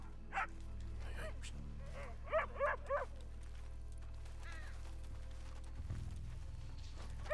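A dog in Red Dead Redemption 2 barks in short bursts and whimpers and yips, with a cluster of loud barks in the middle, over a steady low game ambience.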